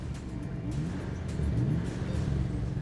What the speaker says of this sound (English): We decided first of all to have a drag race between our cars and a similarly priced modern car, the Suzuki Celery.